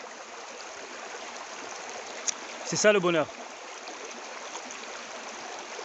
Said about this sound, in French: Ces vagues, ces cascades, ces chutes du Niagara, sa mélodie, vous entendez sa musique?